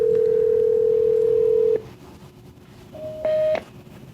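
RingCentral desk phone during paging: a steady tone cuts off, then after a short quiet gap a brief clear electronic beep sounds.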